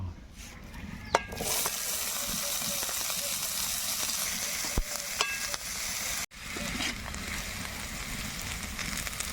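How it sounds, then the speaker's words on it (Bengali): Finely chopped onions frying slowly in oil with dried chili, bay leaf and whole cumin, a continuous close sizzle with scattered spatula clicks and scrapes and a brief cut near the end. "পেঁয়াজটাকে আমি খুব হালকা আছি আস্তে আস্তে আস্তে আস্তে কষাচ্ছি"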